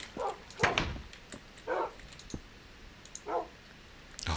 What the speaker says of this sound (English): Oh, dogs, shut up.